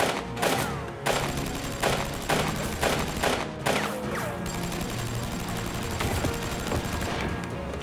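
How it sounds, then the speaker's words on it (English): Sustained bursts of M249 SAW machine gun fire laying down suppressive fire, loud and close with rapid repeated shots and sharp cracks over several seconds, no talking. "I need Will and that M249 saw to lay down suppressive fire for me"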